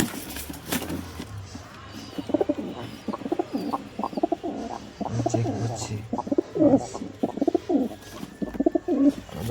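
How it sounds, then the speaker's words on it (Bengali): Pigeons kept at a home loft coo repeatedly up close, their soft throaty calls rolling one after another in a steady series, with a brief spoken remark and light background noise. "সব ছেড়ে ছেড়ে দেখাবো পায়রা।"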